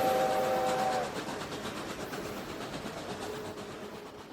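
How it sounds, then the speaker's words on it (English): Reading & Northern steam locomotive 2102 easing an excursion train to a halt beyond a crossing: a short whistle tone at the start, then steady rumbling, hissing rail noise fading slightly as it slows. "2102 brings the train to a halt beyond the crossing"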